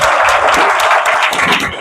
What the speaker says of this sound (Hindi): ताली तो बनते हैं बराबर।